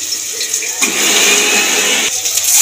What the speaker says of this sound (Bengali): জলটাকে চিপে নেব।